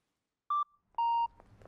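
A pedestrian crossing signal gives two clean electronic beeps, a short one and then a longer one, with faint street noise afterward.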